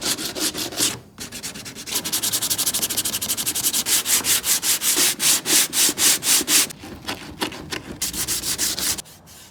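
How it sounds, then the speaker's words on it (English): Rhythmic hand sanding with 80-grit paper scrubs over Bondo body filler on a fiberglass bumper, loud close back-and-forth strokes in a steady, even cadence with a couple of brief pauses. "I'm gonna use the 80 grit, real soft"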